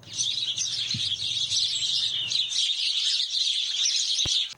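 Sparrows chirp in a busy, continuous chorus of short bright tweets, fairly close and loud, with a brief low thump near the end.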